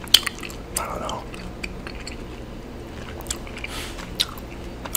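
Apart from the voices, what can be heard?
chewing gum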